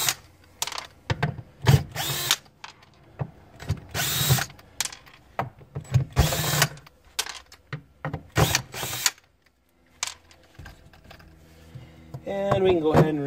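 A power tool spins off five 10 mm plastic nuts from the fuel pump cover of an F-Series BMW, running in repeated short bursts with pauses between them and some clicking at close range.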